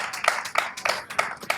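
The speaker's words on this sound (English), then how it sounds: "which I think deserves another round of applause again" A few people clap at a podcast recording, a handful of sharp, separate claps spaced roughly a third of a second apart, close and moderately loud, with no talk over them.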